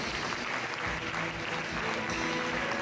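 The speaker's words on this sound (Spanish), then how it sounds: "Iglesia, denle un aplauso a los papás en este día" A church congregation applauds the fathers during a service, a steady, dense wash of clapping that carries on without a break and stays fairly even in loudness.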